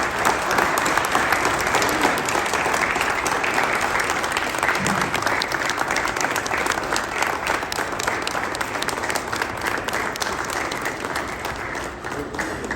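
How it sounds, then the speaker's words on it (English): Dense, continuous audience applause honoring Mr. Rowland at a Johnson County, Texas celebration day, loud and even throughout, thinning only slightly toward the end. "Let's give Mr. Rowland a big round of applause."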